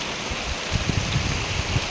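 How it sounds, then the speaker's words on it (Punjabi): Heavy rain pours outdoors, a dense steady hiss of falling water with some low splashing, loud and continuous without voices. "ਮੀਂਹ ਮੀਂਹ ਪੈ ਰਿਹਾ ਦੇਖੋ ਮੀਂਹ ਦੇਖੋ ਜੀ ਮੀਂਹ"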